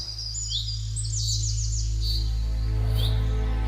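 Thin, high chirping calls of baya weaver birds, including a male weaving its nest, come in short trills over a loud, constant low hum, fairly close.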